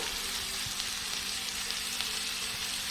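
Vegetable peels frying in a pan, a steady, close, even sizzle with faint crackles and no voices.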